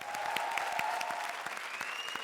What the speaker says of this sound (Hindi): जोरदार तालियां भारती के लिए